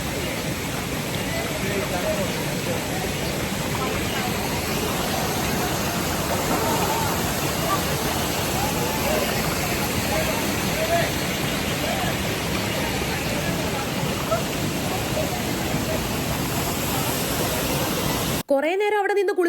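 Steady, dense roar of water pouring from a waterfall, filling the scene at close range for most of the duration, then cutting abruptly near the end to a brief moment of other sound.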